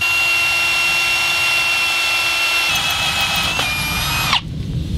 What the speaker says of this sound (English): I have to drill slower to stop the drill from overheating.